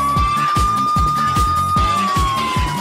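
A police siren sounds in the Roblox game, a steady high tone that slides down near the end over a pulsing, rhythmic low beat, loud and continuous.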